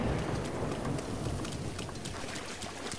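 Steady, dense rain falls in the game Zelda Breath of the Wild, a continuous broadband patter with scattered sharper drop ticks. It is loud and close, with no talking over it.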